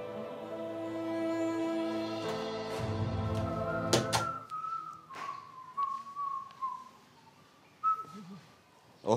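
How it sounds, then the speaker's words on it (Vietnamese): A person whistles a sustained melodic tune, loud and close, followed by a few shorter whistled phrases broken up by clattering knocks and pauses, as in a household scene. "Hóa ra là con trai mẹ cũng biết huýt sáo cơ đấy"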